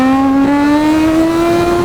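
A 1000cc+ motorcycle at full throttle in second gear, its engine note rising steadily in a loud, close, continuous high-pitched scream of acceleration.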